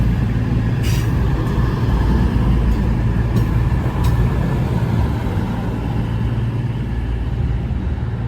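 A Cross Country class 221 train pulls into Stockport station with a continuous low rumble and wheel roar that holds steady throughout, loud and close, with a few faint higher hisses over the top.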